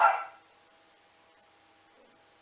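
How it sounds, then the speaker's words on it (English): A dog gives a single short, loud bark indoors at a home, then only a faint steady hum follows. "I don't even think that's our dog."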